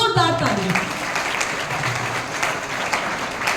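Children at a school anti-drug campaign closing ceremony clap loudly together, a dense, steady wash of applause lasting several seconds, with a voice speaking over the start.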